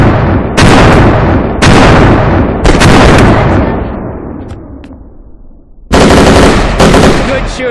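Heavy automatic gunfire from The Last Stand: Dead Zone during a raid on Union Island, loud sustained bursts broken by short gaps, each long volley tailing off before the next one kicks in.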